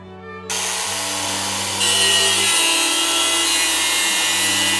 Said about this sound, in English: I have a Dremel Ultra Saw with a metal cutting disc. So we're gonna try to cut the steel with this guy